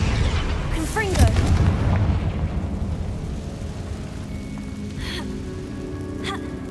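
A Confringo fire spell blast in the Hogwarts Legacy video game: a sharp burst near the start that trails into a crackling, rain-like hiss and rumble, with a faint voice.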